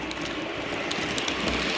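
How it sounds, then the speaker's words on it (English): An HO scale model bullet train speeding up on its track, a steady close rumbling whir of motor and wheels with faint rhythmic clicks, with no talking. "Okay, now we can accelerate the bullet train."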